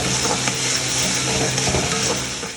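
Kashmiri aloo dum, made with fried potatoes, sizzles and bubbles in a pan, a steady close frying hiss with small crackles and faint stirring clinks.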